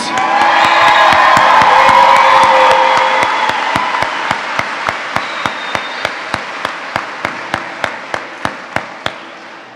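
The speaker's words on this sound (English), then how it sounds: "Ladies and gentlemen, give them a round of applause, please." A graduation crowd at SMHS cheers and applauds loudly, with whoops and shouts over dense clapping that fades into slow, rhythmic unison claps.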